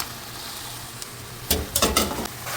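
Mashed taro is stirred into spiced meat masala in a hot pan, a low background sizzle broken by several scraping stirring strokes near the end.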